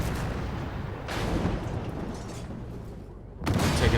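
Tank cannon fire and shell impacts in the Armored Warfare video game, with a sustained rumbling roar of combat, a swell near the middle and a sharp loud blast near the end.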